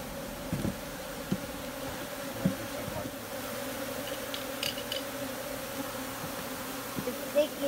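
A dense, steady buzzing of a swarm of bees fills the air, with occasional individual insects passing close by; faint background murmur.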